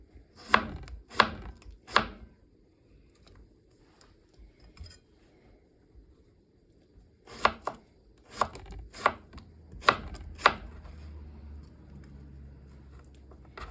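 Thin knife slices through cucumber on a cutting board for spring rolls, sharp chopping taps in quick bursts of three or four, close and crisp, with quiet pauses between and no talk.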